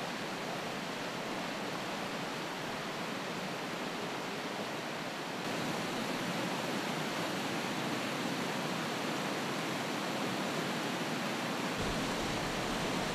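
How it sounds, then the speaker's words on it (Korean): Glacier meltwater in the Pamir rushes as a large stream, a dense, continuous roar of turbulent water that holds steady and close throughout, with no voices. "빙하에서 녹아내리는 물은 금세 커다란 물줄기를 이룬다."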